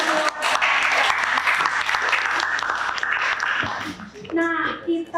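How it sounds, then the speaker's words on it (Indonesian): Classroom of children applauding during a chemistry lesson, dense clapping filling the room for several seconds, with kids' voices mixed in and talk at the end. "Beri tepuk tangan buat kita semua."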